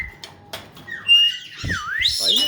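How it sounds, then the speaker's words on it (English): A pet bird in a bird room gives close, loud whistles and sliding squawks, with several rising and falling calls in quick succession and a few short chirps early on. "I hear you whistling to me."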